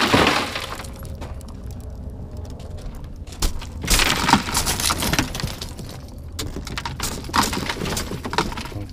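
Car window glass shatters under a spring-loaded center punch, a sharp crack followed by a long crunching, tinkling spill of fragments, with more bursts of glass crumbling and clinking as pieces are pushed out nearby.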